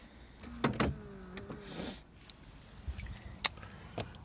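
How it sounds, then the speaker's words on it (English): Central locking on a 2002 Mercedes E320 actuates with sharp clicks and a brief motor whir, followed by a few quieter clunks and taps in a quiet car interior. "It also locks and unlocks the car."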